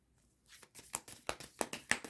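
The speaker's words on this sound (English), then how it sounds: "a good shuffle." Tarot cards are shuffled by hand in a quick series of papery riffling bursts that grow louder and more regular after a brief quiet start.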